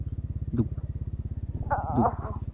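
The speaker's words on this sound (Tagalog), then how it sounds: "Ba't ang bilis ng motor?" A motorcycle engine thumps in a fast, steady pulse while riding a rough, potholed bypass road in Quezon, close and continuous, with brief voices talking over it.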